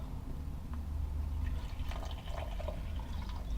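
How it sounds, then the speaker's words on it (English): Water poured to fill a tarantula's water dish, a steady trickling pour with light splashes, close by and fairly quiet, no talking. "let's fill up the water"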